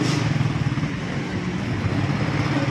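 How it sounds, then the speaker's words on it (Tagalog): Motorcycle engines rumble and idle at an outdoor motorcycle parking area in Daraga, a steady low drone with slight pulsing and revving, continuous and fairly close. "andito ako sa may paradahan ng mga motor"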